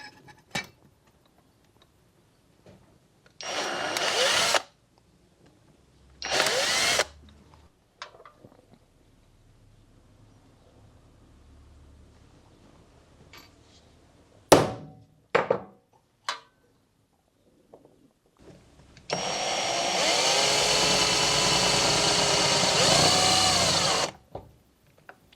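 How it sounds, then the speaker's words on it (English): A power drill enlarges holes to 4mm on a Jaguar XK8 panel, heard as two short whirring bursts, a few brief clicks, then one longer steady run of drilling near the end, with quiet gaps between. "Now I'm just going to enlarge these to 4mm."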